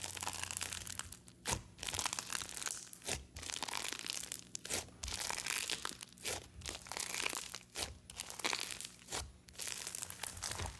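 Crunch bomb slime made with clear glue is squeezed and crunched up close, a dense stream of crisp crackling and popping in repeated rhythmic bursts with brief pauses between squeezes, no voices.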